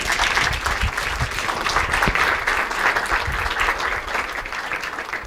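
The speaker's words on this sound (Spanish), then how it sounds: "Otro aplauso para el doctor Gutiérrez, no nos sobra" An audience at a talk on chikungunya breaks into sustained applause, a loud, dense, even clapping that carries through the whole stretch with a few sharper nearby claps.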